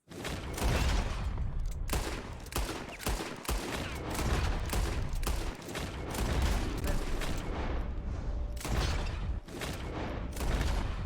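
Rapid gunfire from a drawn pistol at bottles in Red Dead Redemption 2, repeated sharp shots in close, loud succession with brief gaps, filling the whole stretch.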